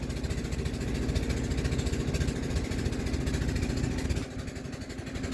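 A boat engine drones steadily on the Balu River, loud and continuous with a low throbbing rumble that dips slightly near the end.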